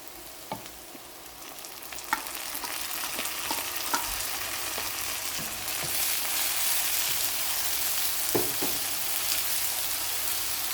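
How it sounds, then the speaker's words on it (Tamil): Ginger garlic paste frying in a pan with golden brown onions for a spicy South Indian chicken curry, a steady close sizzle that grows louder midway, with a few scattered clicks and scrapes of stirring and no talking. "வெங்காயம் நல்லா கோல்டன் ப்ரௌனாக ஃப்ரை ஆகிட்டு நான் இப்போ இஞ்சி பூண்டு பேஸ்ட் போடுறேன்"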